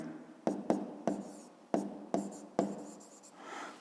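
A pen writes by hand in a fifth-grade math exercise book: a series of short, crisp scratching strokes, about six or seven in irregular rhythm, close and quiet, ending in a softer longer rub.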